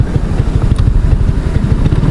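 An Easyride 150 motorcycle with a suspected new-bike wiring issue runs close by, its engine putting out a loud, steady, rapid low putter throughout with no speech.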